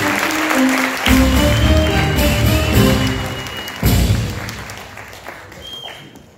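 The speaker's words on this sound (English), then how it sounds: "Can we get a round of applause for that?" Applause and a few cheers from a crowd at a live event, a dense wash of clapping that swells, dips and surges again before thinning out, with voices mixed in.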